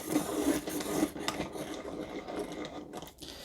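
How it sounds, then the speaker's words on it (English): Pencil being sharpened in a Deli sharpener, a close dry rasping grind that pulses in short strokes, loudest early and tapering off toward the end. "Let's just sharpen one of these."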